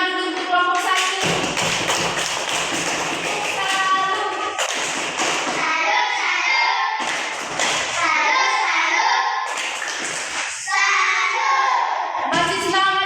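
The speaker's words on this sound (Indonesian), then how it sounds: "Tepuk tangan dulu untuk kelompok 1." Schoolchildren in a primary classroom clap for a presenting group, bursts of sharp, close hand taps alternating with loud, chanted children's voices over about thirteen seconds.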